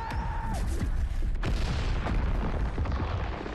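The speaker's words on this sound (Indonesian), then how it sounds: "Dan tak berapa lama kemudian mereka meledakkan pesawat alien itu." An alien spaceship blows up in a science-fiction film, deep rumbling booms and crackling blasts layered together, loud and sustained, with one sharp tone fading at the start.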